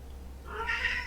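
A house cat gives a single drawn-out meow, close by and moderately loud, rising in the second half of a short moment of otherwise quiet room tone, with no talk.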